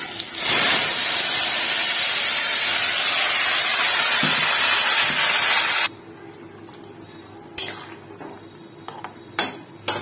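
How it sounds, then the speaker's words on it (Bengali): Pumpkin greens curry with mung dal fries in a pan, a loud, steady hiss and sizzle that cuts off sharply partway, leaving quieter scattered clinks and taps. "আমি তরকারিটাকে ভেজে দেবো।"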